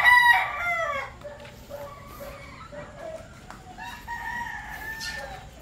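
A Boston Black gamefowl rooster crows loudly and close by, followed by quieter trailing calls and clucks, with faint background noise.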